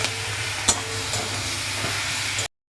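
Chilli chicken being stir-fried with chilli powder, turmeric and other spices, a steady sizzling hiss with a sharp clack of a utensil near the start and a few light scrapes, fairly loud and close.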